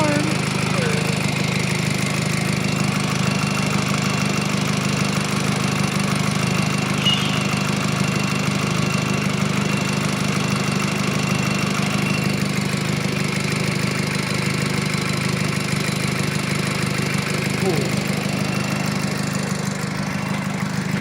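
Volkswagen engine with a check-engine fault running steadily, a constant mid-to-low droning hum with a faint knocking character, close and unbroken throughout.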